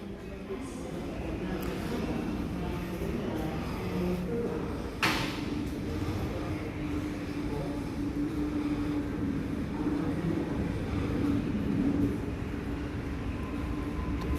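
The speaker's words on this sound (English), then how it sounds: "we have a terminating service approaching platform number 3" Train pulling into North Sydney station platform, a steady low rumble and rolling hum throughout with a brief hiss around midway, close and continuous.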